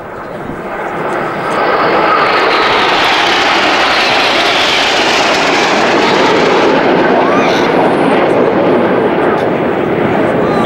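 Hawker Hunter jets fly the aerobatic 5-4 cross manoeuvre at an air display, a loud sustained roar of jet engines swelling as they pass, with a commentator's voice over the noise.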